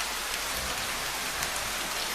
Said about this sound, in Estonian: Jah, vihm.